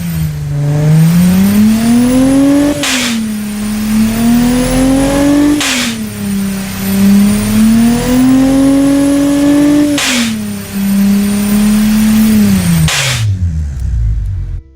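A Ford 2.7L EcoBoost V6 revs loudly and repeatedly, rising and falling in several long sweeps with a blow-off valve hiss at each lift-off, then the engine note drops away to near silence at the end.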